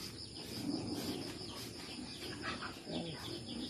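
Chickens at a family house cluck and murmur softly at a distance in a steady outdoor backdrop, with faint bird chirps and no clear talk.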